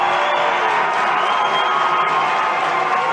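Away supporters cheer at an ice hockey match between Manchester Storm and Cardiff Devils, a loud, steady roar of an arena crowd sustained throughout with no distinct breaks.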